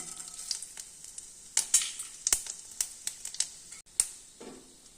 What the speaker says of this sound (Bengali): এবার আমি এই তেলের মধ্যে 5 ফোড়ন দিচ্ছি